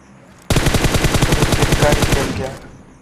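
Groza rifle in a mobile battle-royale shooter firing a single sustained automatic burst of about two seconds, rapid evenly spaced loud cracks that stop abruptly, with no talk during the burst.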